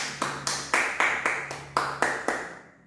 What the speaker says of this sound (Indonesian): Sekarang beri tepuk tangan untuk kalian semua